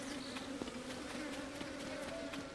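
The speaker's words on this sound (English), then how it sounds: "These bees are relentless." A relentless swarm of bees in The Legend of Zelda: Tears of the Kingdom keeps up a continuous, even buzzing close by, with faint clicks scattered through it and no voices.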